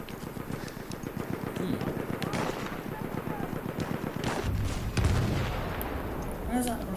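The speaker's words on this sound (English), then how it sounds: "Where's that rocket coming from?" Battlefield 1 combat where a rocket comes in: heavy rumbling blasts and rapid gunfire crackle run continuously, with a deep explosion thump near the middle, while a player talks over the noise.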